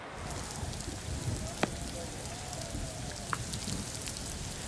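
Steady, heavy monsoon rain pours down in Mumbai in a continuous hiss, with a couple of brief sharper sounds rising out of the downpour.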